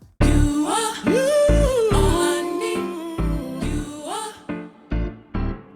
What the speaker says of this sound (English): extract the notes if it's a melodic loop like this one